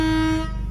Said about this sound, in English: Then there's your air horns.